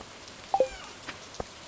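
Rain patters softly in the farming game Stardew Valley during spring. Two close, sharp drop taps stand out, and a few fainter drips follow. There is no talking.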